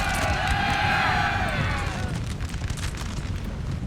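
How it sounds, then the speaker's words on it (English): Infantry muskets fire a massed volley during the 1812 Battle of Borodino in Napoleon Total War, a dense rolling crackle and rumble that swells over the constant din of battle, then settles into a steady roar. "They're going to get a volley in the face first though."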